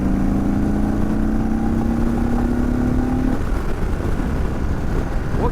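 An Indian Sport Chief motorcycle engine revs up under acceleration, its rising drone climbing steadily for about three seconds before the gear tone drops away into a rougher, loud running rumble.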